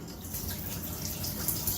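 Hot water running steadily from a tap into a sink, a continuous rushing splash with faint dripping, fairly close and uniform, no voices.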